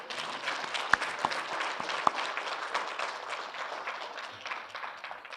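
Audience applause at a lunchtime conversation event, a steady wash of clapping from a moderately sized room, fairly soft and even, with a few sharper individual claps standing out.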